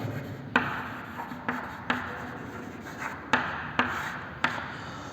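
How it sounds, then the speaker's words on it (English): A knife cutting through a crystalline solid, with a series of about seven sharp, close clicks spaced irregularly over a low scraping rub. "Now next property, cutting with knife."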